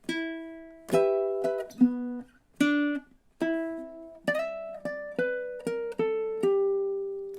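Ukulele playing the closing two-measure turnaround of a minor 12-bar blues riff: a run of sharply plucked single notes and short chords in a steady counted rhythm, each ringing briefly before the next, close and clear with no talking.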